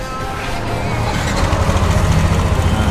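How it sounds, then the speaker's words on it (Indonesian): A Yamaha NMAX scooter with a rough, noisy engine runs close by, a dense rattly idle that builds slightly and pulses evenly, with faint voices in the background. "Nah, bisa didengar suara mesinnya ya."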